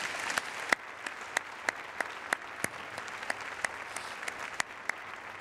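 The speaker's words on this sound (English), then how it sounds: "Let's offer a round of applause to thank them for sharing their insights on the creative process." Applause from an audience at a university presidential inauguration, steady clapping from many hands with a few sharper individual claps standing out, moderately distant in a large hall.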